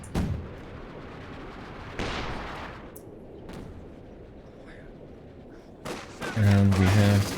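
MG42 machine gun fires incendiary armor-piercing rounds in a tank battle video game, heard as a few scattered, fairly distant bursts and bangs over a low rumbling battlefield, with a voice speaking near the end.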